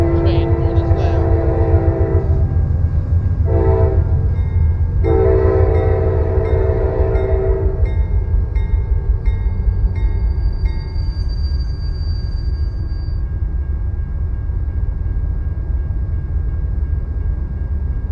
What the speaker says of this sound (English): Wow, that train horn is loud.